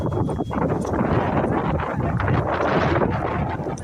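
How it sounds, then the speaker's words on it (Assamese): Strong wind blows hard against the microphone, a loud buffeting rush that stays constant throughout with no speech. "বেছি বতাহ মাৰিছে আমাৰ ইয়াত।"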